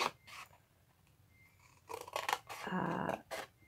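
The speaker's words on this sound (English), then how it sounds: "So bring in your scissors and we're just going to cut up" Scissors snip through cardstock while a gift box is cut up along score lines, several short close crunchy cuts in bursts, the longest near the end, with quiet pauses between.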